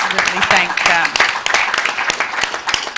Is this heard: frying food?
no